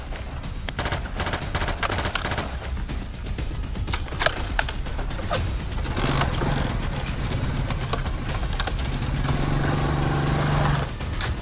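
Motorcycle engines rev and roar amid busy street noise, with sharp popping bursts and a steady rumbling throughout.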